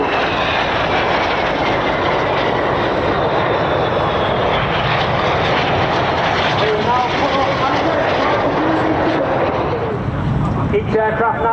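Red Arrows jets roar overhead at an air festival display during an aileron roll, a loud continuous engine rush that shifts in pitch as the aircraft pass, with a commentator's voice over the noise.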